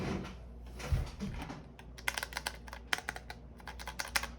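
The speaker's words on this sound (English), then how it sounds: "It's extremely satisfying to press these keys" Keys on a Braille Lite 2000 refreshable braille display are pressed in quick uneven bursts of crisp plastic clicks, close and fairly loud, following a few softer thumps of handling, with no talking.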